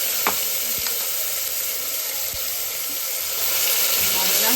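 Green paste hitting hot frying masala in a fish pulao being cooked in a home kitchen, giving a loud, steady sizzle and hiss with a few faint clinks of utensils.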